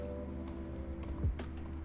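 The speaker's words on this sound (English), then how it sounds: "I will start typing in the file name" Quick keystrokes on a computer keyboard as a file name is typed, a short soft run of clicks over a steady low hum.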